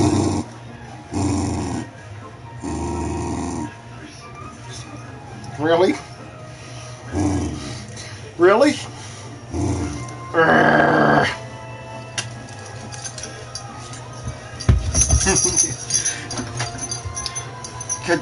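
A pet dog named JJ growls in short, rough bursts indoors, close and fairly loud, with a person speaking in between the growls.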